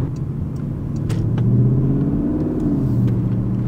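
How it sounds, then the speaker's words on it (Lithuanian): A BMW V8 engine gives a deep, steady rumble from inside the car, rising slightly as it pulls away, with a few faint clicks over the low drone. "girdis variklis. Nes, V8 tai visada norėtųsi jį girdėti"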